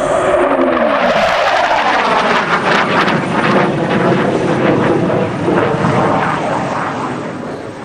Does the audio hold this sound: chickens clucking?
no